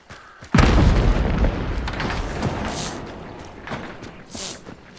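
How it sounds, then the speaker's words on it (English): An exploding barrel shot in a video game goes off with a single loud, deep boom that rolls into a long, decaying rumble, with faint noises and brief soft bursts trailing after. "I'm just shooting a barrel."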